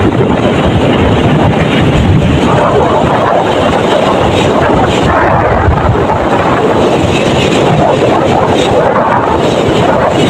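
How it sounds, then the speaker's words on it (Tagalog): Strong typhoon wind buffets the microphone beside a rough, churning sea, a loud unbroken roar of gusts and crashing water with a voice faintly present underneath. "Sobrang lakas lang po ng hangin."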